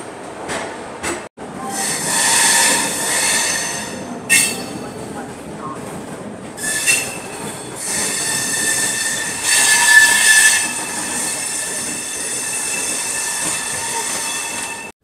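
Indian AC express passenger train running from Chennai to Kolkata, a steady broadband rumble of wheels on rails with brief gaps and surges, heard from inside the carriage with faint voices in the background.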